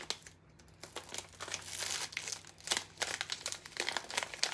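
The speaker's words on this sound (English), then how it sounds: "if I can get the packaging open" Plastic packaging around cinnamon sticks is crinkled and torn open up close, making continuous rustling and crackling with sharper ripping bursts toward the end.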